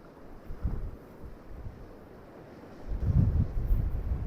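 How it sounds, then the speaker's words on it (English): Gusty wind at Amlwch harbour on the UK coast buffets the microphone in low rumbling surges, with one gust early and a stronger, longer one near the end, and no voices. "So that wind is well picking up now, I bet you can hear it."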